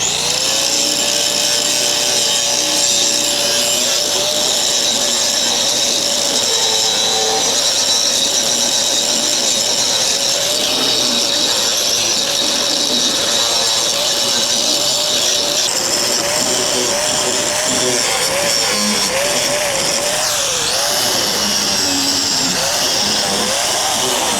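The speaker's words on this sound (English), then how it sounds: "So I'm gonna grind that out" A Milwaukee angle grinder grinds cracks out of the steel deck of a used bush hog rotary mower, a loud, steady high-pitched whine with rasping metal contact that runs continuously and shifts in pitch as the disc bears down.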